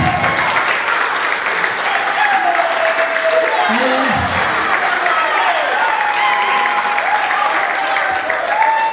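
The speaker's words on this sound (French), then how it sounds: "Est-ce qu'on peut applaudir, s'il vous plaît?" Sustained audience applause at a SAVAS theatre event, steady and dense across the whole stretch, with a voice talking over it throughout.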